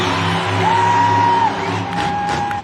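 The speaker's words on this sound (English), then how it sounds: "You might be the loudest crowd that we've heard all year long." A packed Monster Jam stadium crowd in Denver roars with a steady, loud wall of cheering and whooping, and a sustained whistle-like tone rises above it through most of the stretch.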